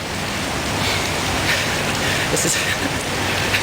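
Heavy rain pours down in Tokyo, a dense, steady hiss of water drenching the street, loud and close, with a brief voice speaking over it.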